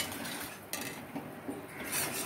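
Metal utensil stirring a sugar and cashew mixture in a pan, soft repeated scraping and light clinks close by, with no talk.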